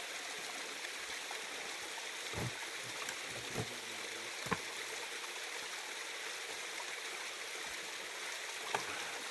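Creek water runs steadily through a gold mining setup at a camping spot, a constant broadband rush with a few sharp clicks and knocks popping out near the middle and end.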